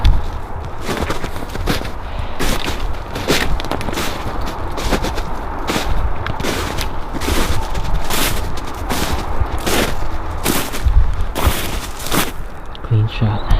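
Rapid, sharp gunshots crack repeatedly during small-game rabbit hunting outdoors, a dense series of loud reports spread across the clip with some voices in the background.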